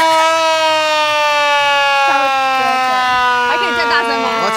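A loud siren-like horn on an antique car blares close by with a steady, sustained wail whose pitch slowly sinks. Brief voices break in near the end.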